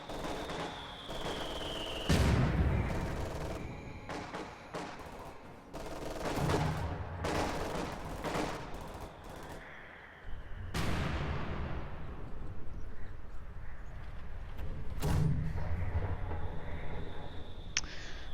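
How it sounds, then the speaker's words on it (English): A mortar half-track in Company of Heroes 2 fires amid a match, with repeated heavy booms, bursts of gunfire and explosions layered over a constant battlefield din. "Mortar half track already up to 10 kills."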